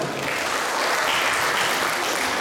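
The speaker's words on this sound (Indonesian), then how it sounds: "Tepuk tangan dong buat Mas." Audience applause at a seminar with a Japanese guest speaker on animation, a steady, dense burst of clapping from a roomful of people, sustained evenly for a couple of seconds with no talking over it.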